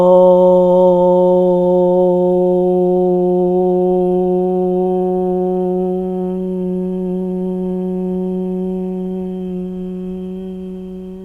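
One voice holds a long, steady chanted Om, a rich sustained hum with clear overtones that slowly fades over about eleven seconds, alone and close.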